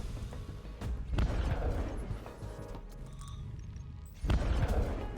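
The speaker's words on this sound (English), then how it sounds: "I wanna see if the interceptor will take down the Trident torpedo" In a naval combat video game beta, an interceptor missile meets a Trident torpedo with heavy booming impacts, one rumbling blast early on and another sharp, loud boom about three seconds later, amid continuous low game noise.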